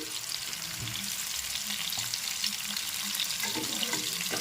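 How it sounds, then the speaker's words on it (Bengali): Cauliflower florets mixed with salt being stirred and fried in a pan, a loud continuous hissing sizzle with scraping stirring strokes, close up and without talk. "এবার নেড়ে চেড়ে ভেজে নিচ্ছি"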